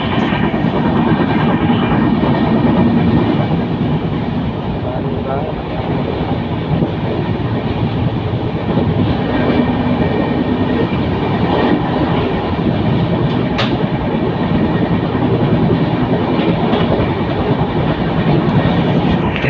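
Panchaganga Express rushing at high speed along the Konkan Railway, a loud, continuous roar of wheels and rattling carriages heard from on board, steady throughout with faint rhythmic clatter.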